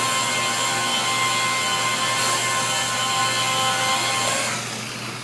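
A Makita 9227C rotary buffer with a foam pad polishing paint on a flat panel gives a steady, loud motor whine with constant hum, tapering off slightly at the end.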